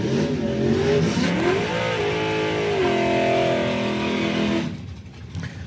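A '64 Malibu race car engine revs hard and steadily at a dirt track, its pitch rising and falling through about four and a half seconds before dropping off, loud and close with no talk.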